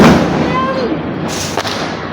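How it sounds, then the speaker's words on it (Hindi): Firecracker bursting outdoors on Diwali, a loud crackling burst at the start followed by a whistling rocket-like tone and another sharp pop, with a constant noisy background of festival crowd sound. "बट हम एक स्पेशल पटाखा फोड़ेंगे"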